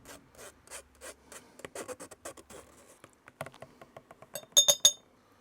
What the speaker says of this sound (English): push the pulp through the sieve a little bit